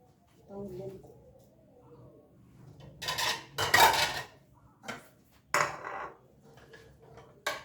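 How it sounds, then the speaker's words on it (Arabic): Dried dishes are stacked by hand in a home, producing loud clattering clinks of crockery in several separate bursts while someone talks in between. "انا بس يعني ارص المواعين هنا لما بتنشف"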